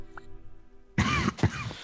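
Someone nearby coughs and clears their throat sharply during a Minecraft let's-play session, two loud rough bursts after a quiet stretch with a low hum.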